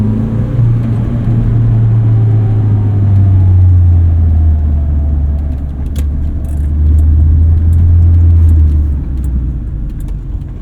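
A 1979 first-generation Honda Prelude rolls along with a loud, low engine and road rumble from inside the cabin, rising and falling, with a few light rattles and clicks toward the end as it crosses railroad tracks.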